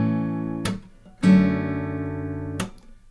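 Fingerpicked acoustic guitar playing the second measure of a song, ringing plucked notes with a few sharp string attacks, close and clear with no talking.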